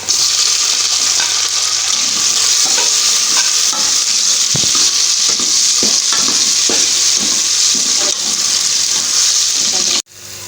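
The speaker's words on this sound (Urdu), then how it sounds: "اس میں ادرک اور لہسن جو ہے تھوڑا سا فرائی کریں گے ہم۔ اس کے ساتھ جا رہے ہیں ٹماٹر۔" Ginger, garlic and tomatoes frying in a pan, a loud steady sizzle with scraping stirs throughout that cuts off abruptly near the end.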